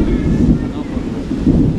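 Strong wind gusts roar steadily into the microphone as a storm gathers over the Konkan coast at Diwali, a continuous low rumble that swells and eases with no break.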